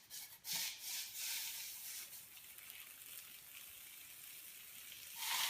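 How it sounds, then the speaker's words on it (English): Liquid nitrogen poured out and boiling at room temperature, a faint hissing, sizzling rush with a few soft splashy bursts, continuous throughout. "We'll be pouring the liquid nitrogen now."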